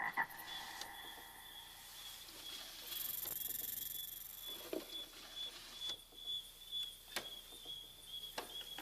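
A toad croaks repeatedly in a steady, rhythmic series of rasping calls, fairly close and faint, with soft clicks and no talking.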